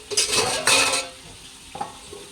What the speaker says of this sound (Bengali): আর এদিকে আমি আলু ভেজে নিচ্ছি আর বেগুন ভেজে নিচ্ছি